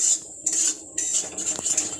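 Minced chicken being added to a pan and stirred for chicken egg devil, giving a few short scraping and rustling bursts against a steady high hiss, close and moderately loud.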